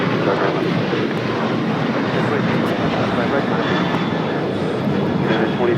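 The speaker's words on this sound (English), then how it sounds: "2449 taking off to Las Vegas on a 737-900ER" United Airlines Boeing 737-900ER taking off from LAX, a loud, continuous broadband jet engine roar that holds steady and close throughout.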